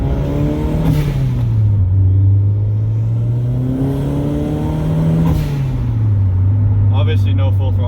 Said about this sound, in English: hopefully the mic is picking up some of the 4-inch intake, Burke exhaust, and tile blow-off valve noises